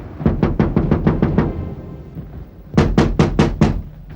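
Knocking on a wooden door in two quick bursts, the first a rapid run of about eight close raps, then a short pause before a louder second run of about five raps, with no talk.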